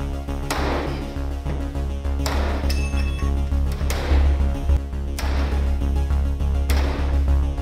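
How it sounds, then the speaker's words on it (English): Sledgehammer strikes on a classroom door lockdown device tested by a police officer: a series of loud, sharp metallic clanging impacts, about six evenly spaced blows with ringing decay over a constant low hum. "Force applied, 21 sledgehammer strikes."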